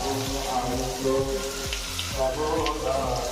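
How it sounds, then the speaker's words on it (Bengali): Tomato and chili paste frying in hot oil for a spicy fish curry, a continuous close sizzle and spatter with some clinks of a utensil against the pan, no voices over it. "এবার আমি সেই টমেটো আর লঙ্কার পেস্টটা দিয়ে দিচ্ছি"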